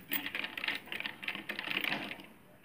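A sewing machine stitching a blouse sleeve runs in short, stop-start bursts of rapid mechanical clatter, close and fairly quiet, with brief pauses between runs.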